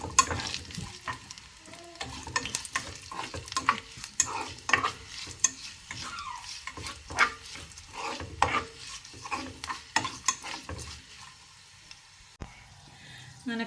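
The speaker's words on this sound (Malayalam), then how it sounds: "അങ്ങനെ കടുക് വറുത്ത് നമ്മൾ ഇതിലേക്ക് ചേർത്ത്" Mustard seeds, onion, curry leaves and chillies fry as a tempering for carrot pachadi, with a close sizzle under constant busy spatula stirring and scraping, pulsing loud and soft, and no voices.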